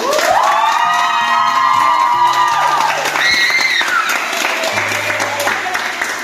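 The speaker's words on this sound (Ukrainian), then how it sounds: "прошу бурними аплодисментами подякувати саме йому" Campers at a girls' camp in Irshava break into loud applause and cheering, a sustained roar of clapping and shouts with some high whoops, while sliding tonal music sounds and a few voices ride over the crowd.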